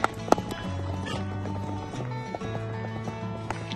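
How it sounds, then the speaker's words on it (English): Horses being driven down from a mountain by cowboys in the Rocky Mountains near Sheridan, Wyoming, clip-clop past in an irregular stream of hoofbeats over a low steady rumble, with a sharp knock or two early on. "the horses are all gonna be coming through here in a minute"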